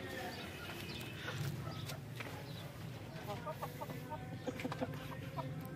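An Aseel hen clucks in short repeated bursts amid other barnyard sounds and some nearby speech, close and moderately loud.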